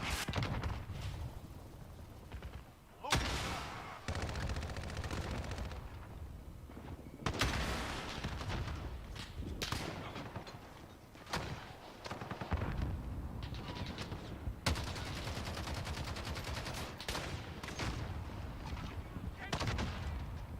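Rapid gunfire from a weapon in a first-person shooter video game, bursts of loud automatic shots broken by brief pauses, with game effects mixed in.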